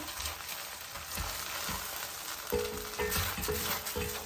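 Chicken curry fries in a steel pan while being stirred continuously, giving a close, even sizzle with soft scraping and a few faint metallic knocks toward the end, with no talking.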